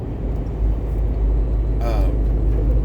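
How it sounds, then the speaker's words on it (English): Steady low rumble of road noise inside a moving truck cab, a constant drone filling the lows throughout with a brief whistling tone partway through. "I apologize if there's road noise in all these videos, but I'm a truck driver."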